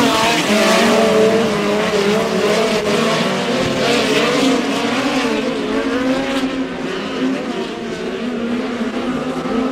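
Midget race cars roar around a dirt oval during a POWRi West Midget League heat race at Airport Raceway, engines loud and continuous with overlapping revs from several cars across the whole stretch.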